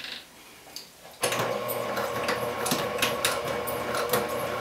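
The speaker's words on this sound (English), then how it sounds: "And then you'll back stitch" A sewing machine back stitches a strap handle, starting after a quiet moment and then running steadily and loudly, its rapid mechanical needle rhythm continuing to the end.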